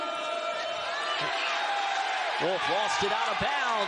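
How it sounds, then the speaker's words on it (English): A college basketball arena crowd at a Morehead State game roars steadily and swells, with sneaker squeaks and ball bounces near the end, all beneath continuous play-by-play commentary. "and the crowd erupts"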